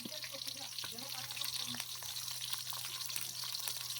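Onions sizzle steadily in hot oil in a home kitchen during a power cut, a soft continuous crackle with occasional clinks of a stirring spoon and a quiet voice talking now and then.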